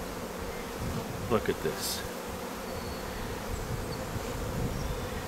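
Honey bees swarm over a hive frame in a beekeeper's colony, giving a steady, close buzzing drone throughout, with a brief spoken remark partway through.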